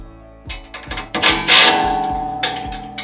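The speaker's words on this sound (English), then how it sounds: "now that I have the wand clips in the correct position, again, we can tighten the nuts and bolts up" Nuts and bolts being tightened on a metal backpack sprayer rack, heard as a series of sharp close metallic clicks and a ringing clank that fades slowly, with no voices.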